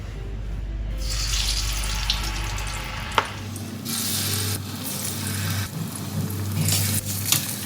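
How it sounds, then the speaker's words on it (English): Plantains marinated for about 15 minutes are added to hot vegetable oil in a pot for Nigerian fried plantains, giving a steady broadband hiss of frying that sharpens into crackling sizzle after a brief clatter, with no talk. "The oil is perfectly heated, and here are the plantains."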